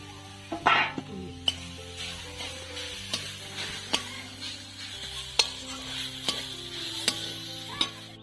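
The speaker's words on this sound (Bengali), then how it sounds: "কড়া গরম হয়ে গেছে, এবার আমি নারকেলটাকে দিয়ে দেবো" Grated coconut sizzles faintly in a hot wok as a spatula stirs it, with sharp intermittent scrapes and clinks against the metal every second or so, close and fairly quiet.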